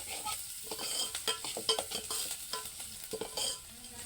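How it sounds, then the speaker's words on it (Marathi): Onion tempering crackles in oil on a wood-fired stove, with a close sizzle broken by rapid stirring clatter and scraping of a spoon against the pan. "पहिले कांदा टाकून करू राहिली मी कांद्याची फोडणी देणार आहोत"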